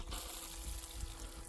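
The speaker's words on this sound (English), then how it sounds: "We have a shower. So I'll just demonstrate that for you now." Water runs steadily from the rear shower of a Ford Nugget factory-built camper van, a soft continuous spray with no talking over it.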